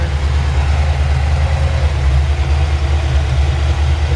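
The engine of a 1962 Chevrolet C10 pickup sits at idle. Its exhaust through Hedman headers gives a heavy, even low rumble that stays loud and near the whole time, with no talking.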